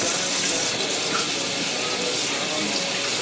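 Tap water runs steadily in a kitchen sink while raw pork tenderloin is rinsed under it, a continuous close hiss and splash with no break across the whole stretch.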